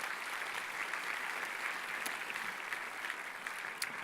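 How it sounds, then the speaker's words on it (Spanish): Church congregation applauding, a soft, steady wash of many hands clapping at a distance, even and continuous throughout with a few sharper claps standing out. "le damos un aplauso al Señor."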